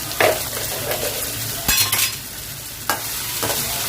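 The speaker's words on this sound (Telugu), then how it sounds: "కరివేపాకు వేసుకుని కలిపేసుకున్నాం." Curry leaves stirred into a sizzling chicken curry base of tomatoes in a pan, with a steady frying hiss and a few sharp utensil scrapes and knocks against the pan.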